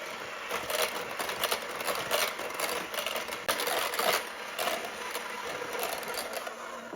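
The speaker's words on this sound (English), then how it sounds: "And now we're just going to mix." Electric mixer whipping cream with powdered sugar, a continuous high motor whine with a rattling, fluttering texture that holds steady for several seconds with no talking.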